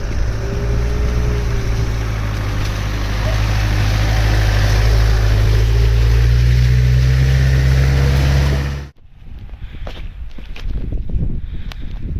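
A recovery truck's winch hauls a battered Mk2 Astra GTE convertible spares car aboard, a loud steady mechanical drone with low hum that runs for about nine seconds, then cuts off abruptly, leaving quieter background noise.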